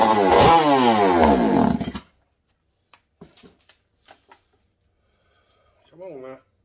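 A McCulloch 101B race chainsaw engine roars loudly up close for about two seconds and then cuts out, leaving faint clicks and handling sounds before someone briefly speaks.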